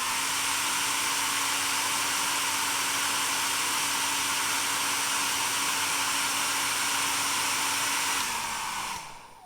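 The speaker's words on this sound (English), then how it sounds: "I'm going to use a hairdryer to blow air towards your blades" A hair dryer blows at the blades of a 3D-printed model wind turbine with a loud, even whoosh and motor whine, then winds down and cuts off near the end.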